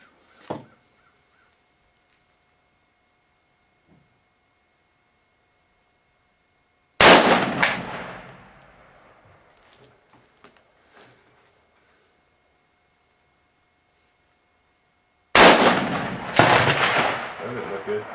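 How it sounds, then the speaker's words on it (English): Two loud, close AR rifle shots with M855 5.56 rounds strike a hard body armor plate, each a sharp blast with a ringing decay, separated by long quiet stretches, with a faint pop near the start. "we just shot two more rounds out of the AR, the same 855"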